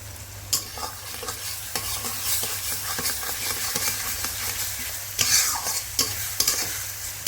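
Continuous sizzling of onion and garlic frying in a pan, punctuated by spatula scrapes and stirring clicks, close by, with a low hum underneath.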